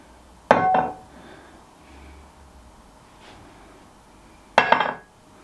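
A Ninja Stay Sharp kitchen knife drops onto a chopping board twice, each fall giving a sharp metallic clatter with a short ringing tail, separated by a few seconds of quiet room tone.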